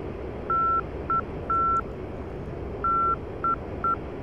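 TACAN navigation beacon identifier from the cockpit of an M-2000C jet in the DCS World flight simulator: a clean, steady beeping tone in short and long Morse-like pulses over a low background hiss.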